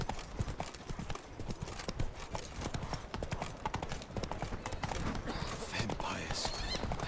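Horse hooves clip-clopping at a steady gallop rhythm in the video game The Witcher 3: Blood & Wine, fairly close and continuous, with game ambience and a voice briefly heard.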